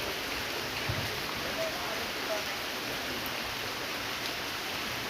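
Steady rain falls in a rural monsoon scene, an even, moderately faint hiss with a few soft knocks underneath and no talking.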